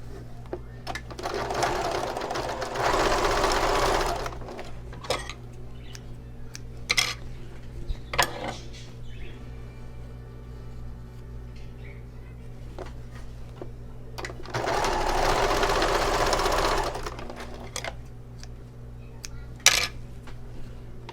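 A sewing machine stitches pieces of a clutch bag in two whirring runs, each a few seconds long and close, with quieter gaps between them filled by light clinks and handling noises.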